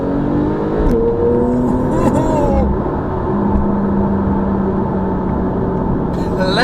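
A red Porsche in Sport Plus with manual shifting pulls hard, its engine note droning and rising loudly from inside the cabin, with a continuous whir and road roar underneath.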